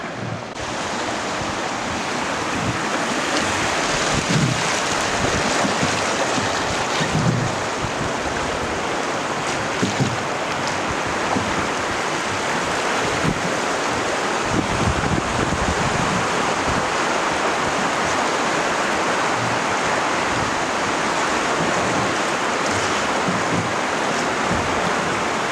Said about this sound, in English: It has more rapids than other rivers I've heard.